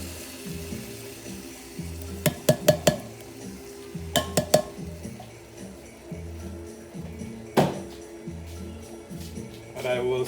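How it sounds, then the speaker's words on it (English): Black beans are added to a saucepan of onions and garlic on the stove, with a few sharp metallic clinks and scrapes over a low background hum and a soft sizzle. "I'm now going to add the black beans into the saucepan with the onions and the garlic."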